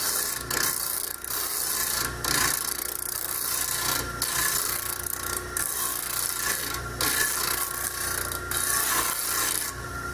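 Wood is sanded end to end on a machine sander, making a continuous close rasping grind with steady rubbing texture, broken by brief rhythmic scrapes as the piece is worked along.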